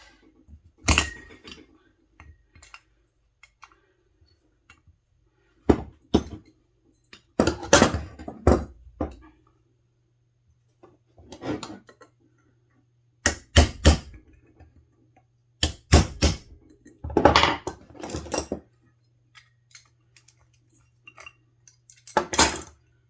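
Vice grips clink and scrape against metal while working a stuck nut on a Yanmar 2GM20 sea water pump aboard a boat, with sharp intermittent clicks and rattles separated by quiet pauses.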